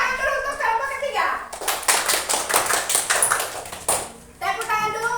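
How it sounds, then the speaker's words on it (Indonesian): Classroom children clapping for a group of students, a rhythmic burst of many small hands in the middle, with children's voices talking before and after it. "Tepuk tangan dulu untuk kelompok ketiga."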